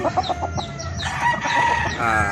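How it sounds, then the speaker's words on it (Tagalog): Gamefowl roosters, a Yellow Legged and a Boston Roundhead, cluck and crow close by, one crow rising over a busy backdrop of other fowl calls. "isa po itong Yellow Ligidats ni DL, tapos Boston Roundhead ni Marlon Bisculen"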